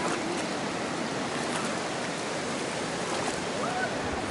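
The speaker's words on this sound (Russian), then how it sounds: "Горная река." A clear mountain river in a California national park, Big Trees, rushes steadily as a dense, unbroken wash of flowing water that holds a constant level throughout.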